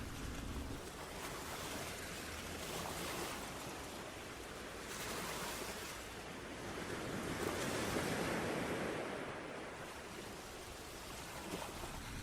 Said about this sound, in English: Staring out, you see flecks of white as the waves curl over in the distance.